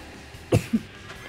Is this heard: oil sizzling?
no